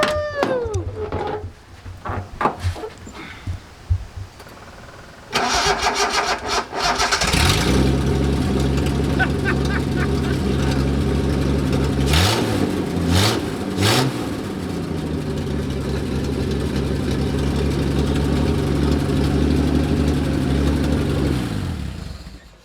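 A junkyard engine in a Datsun 240Z cranks with a few starter bursts, then catches and runs loud and close, revving up and settling into a rough idle, with a voice cheering briefly between starter attempts.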